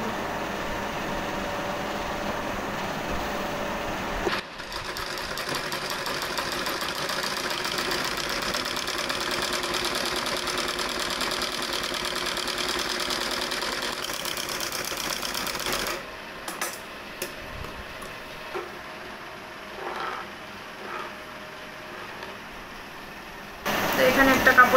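A domestic sewing machine runs steadily for about twelve seconds, stitching scrap fabric pieces together for a child's pants, then slows into shorter bursts of stitching before stopping, with a brief louder rattle at the end.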